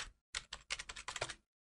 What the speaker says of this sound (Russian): С помощью клавиши Backspace на клавиатуре стираем имя и пишем.